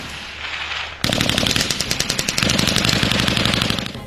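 Heavy weapons firing in rapid automatic bursts during a Bangladesh Army cadet field firing exercise, loud and close with a steady rattling rhythm after a brief lead-in of outdoor noise.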